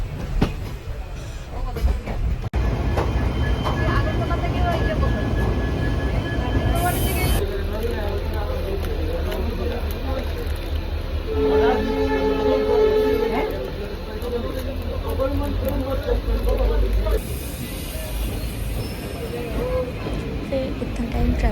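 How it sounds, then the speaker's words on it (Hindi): A passenger train pulls away from Silchar, rumbling and rattling steadily with clattering wheels and a brief tonal whine, while voices talk under the noise. "फिर तो हमारा ट्रेन स्टार्ट हो गया सिलचर से"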